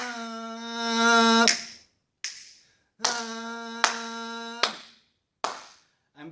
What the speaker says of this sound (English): I'm clapping the pulse, not the notes.